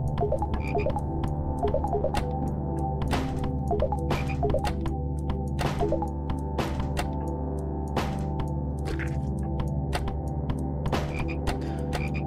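Frogs croak continuously in a video game, with repeated deep throaty calls over a steady droning background, punctuated by sharp thunks and clicks, with no talking.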